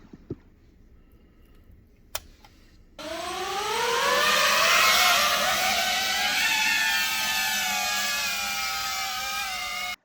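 An FPV quadcopter drone built with a Walksnail Moonlight 4K camera kit spins up after a few clicks and near-silence. Its motors climb into a loud, high, wavering whine that keeps shifting in pitch through the test flight, with no speech.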